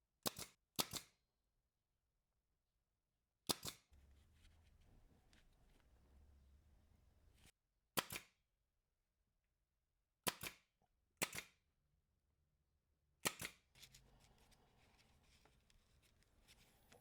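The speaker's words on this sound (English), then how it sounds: "let's go ahead and get these all glued and nailed together" Scrap wood Christmas pieces are nailed together with sharp, isolated hammer-like strikes, some in quick pairs and others spaced several seconds apart, against a quiet room with faint handling noise between hits.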